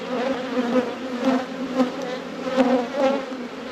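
Honey bees buzz steadily around an open hive during an inspection after winter, a dense, close insect drone with fluctuating pitch and slight swells in loudness throughout.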